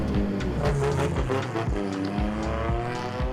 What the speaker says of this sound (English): Casey is driving his practice car